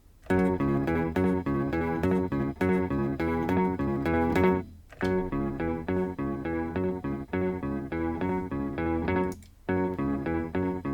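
A low, rhythmic bass line from a song picked on electric guitar, repeating phrases of clean notes with short breaks between them.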